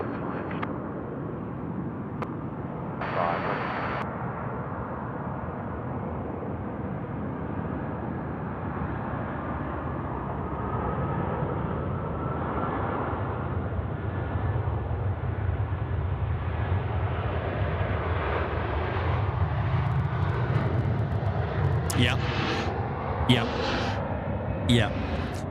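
Jetstar jet airliner on runway 16 right at Sydney Airport at night: a broad, steady engine roar builds slowly and fills the scene, heard from a distance, with voices talking over it and a brief radio-like burst early on.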